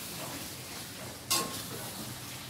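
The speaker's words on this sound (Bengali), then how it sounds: "প্রায় ভাজা ভাজা হয়ে আসছে" Spices frying and being stirred in a pan give a faint, steady sizzle, with one brief utensil clink partway through.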